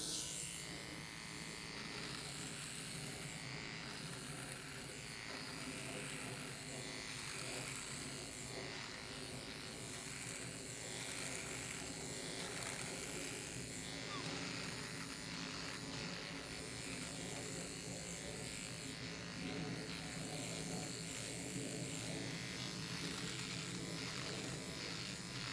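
A Philips OneBlade Intimate electric trimmer buzzes steadily and fairly quietly as it shaves a face, a continuous close-up whirr with no talking.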